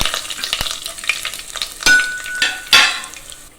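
Whole bay leaves, garam masala, cardamom and cinnamon dropped into hot oil with melted sugar for chicken kosha, a soft sizzle punctuated by a few sharp spattering bursts and light stirring clinks, close and fairly loud.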